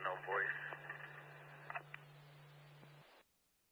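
Ham radio receiver output carries a steady low tone with warbling, chirpy higher tones and static on top, no voice, before the signal cuts out into near silence.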